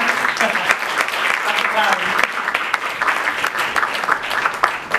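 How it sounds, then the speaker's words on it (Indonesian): Church congregation applauding steadily with dense, continuous clapping while someone speaks over a PA. "Jangan berhenti tepuk tangannya."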